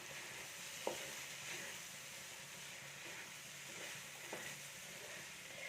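A ration rice mixture is stirred and roasted in a pan, giving a soft, continuous sizzle with a few light scrapes and taps from the spoon against the pan, faint throughout.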